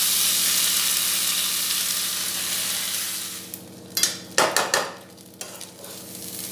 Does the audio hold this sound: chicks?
no